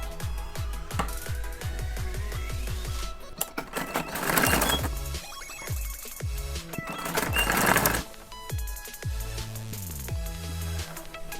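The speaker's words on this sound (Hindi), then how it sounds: "अब हम फिटिंग की सिलाई लगाएंगे" An electric sewing machine stitches the fitting seams of a sleeveless princess-cut blouse, running in quick bursts of rapid rhythmic clatter that start and stop several times. It sounds close and loud, with no talking.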